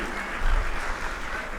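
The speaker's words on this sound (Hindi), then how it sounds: "एक बार जोरदार तालियां संदान सागर जी महाराज श्री के लिए" Loud applause from a gathered audience at a religious discourse session, a brief dense wash of clapping with a low rumble underneath.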